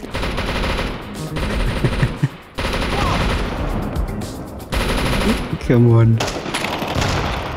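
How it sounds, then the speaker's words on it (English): M2 heavy weapon gunfire in the video game CS2, with sustained rapid bursts of loud automatic fire broken by short pauses, and brief speech between bursts. "He shot about 5 bullets."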